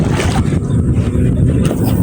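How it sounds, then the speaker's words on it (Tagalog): Loud, blustery wind buffets the microphone over a low rumbling roar of open sea, constant throughout the short stretch. "Medyo malakas talaga ang hangin."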